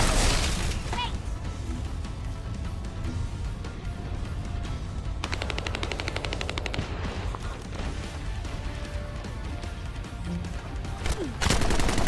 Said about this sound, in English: Can you hear gunshots still decently?